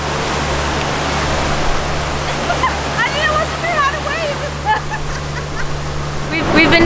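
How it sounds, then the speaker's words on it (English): A roaring waterfall heard from a cruise boat nosing in close enough to catch spray at Milford Sound, New Zealand: a steady loud rush of falling water with a low engine hum beneath, while excited voices talk over it. "right up on this waterfall. Close enough to get a little sprayed."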